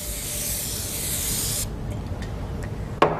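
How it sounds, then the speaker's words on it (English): Cooking spray hisses steadily onto the bottom of a 9x13 baking pan for about a second and a half, then stops, followed by a few faint clicks and a short sharp clatter near the end. "now I'm spraying the bottom of a 9x13 pan"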